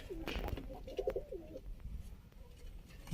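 Pigeons kept for sale in Sialkot give a soft, low, rolling coo near the middle of the clip, amid faint rustling and handling noise.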